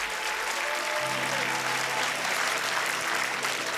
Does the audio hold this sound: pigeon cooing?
no